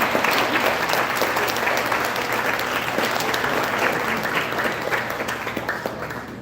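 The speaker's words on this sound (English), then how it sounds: "You can give her a round of applause now." Banquet guests at a school sports awards dinner break into loud, close applause, dense overlapping claps holding steady before tapering slightly at the end.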